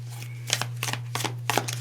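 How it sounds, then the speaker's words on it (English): Tarot cards are shuffled by hand in four quick, soft bursts of riffling and flapping, with short pauses between them, over a steady low electrical hum. "Let's shuffle until we get just one."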